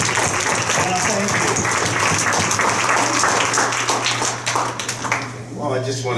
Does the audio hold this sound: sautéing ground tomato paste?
no